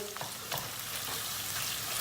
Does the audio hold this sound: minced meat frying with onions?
yes